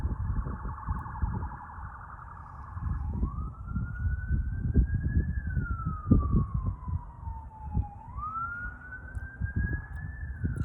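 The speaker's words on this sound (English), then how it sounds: "Sorry about the sirens." Emergency vehicle sirens wail outside, loud and sweeping up and down in pitch, with a fast yelp pattern giving way to slow rising and falling tones as the vehicles pass through heavy street noise.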